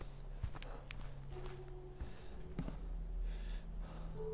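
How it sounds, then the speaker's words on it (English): Footsteps of the monster in the horror video game Siren Head: Awakening thud faintly at irregular intervals amid low droning ambience, eerie tonal hums and scattered clicks, with no speech. "I just heard something. From there. A footstep."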